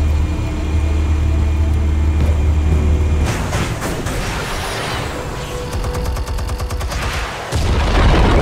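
Explosives detonate in Batman: The Telltale Series, a loud low hum giving way to a burst of blasts, crackling debris and rapid rattling impacts before a deep rumble returns.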